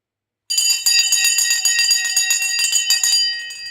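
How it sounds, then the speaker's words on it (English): The stock market closing bell rings loud and close, a sustained metallic ringing with rapid repeated strikes that starts abruptly after silence and fades slightly at the end. "The bell has now gone."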